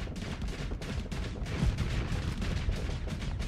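Torpedoes launching from a ship in the space combat game Starsector, a dense stretch of booming, rumbling blasts and crackling bursts that runs continuously and loudly throughout.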